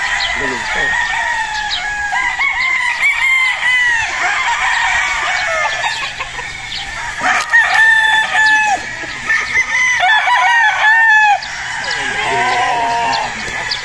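Young battle-stag roosters crow repeatedly on a gamefowl farm, several calls overlapping near and far with clucking between, over steady outdoor background noise.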